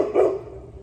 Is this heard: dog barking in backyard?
yes